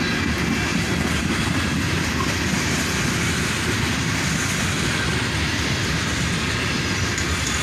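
A CSX northbound manifest freight train led by a CM40-8 and a CM44AC locomotive rumbles past, a loud steady roar of rolling cars throughout.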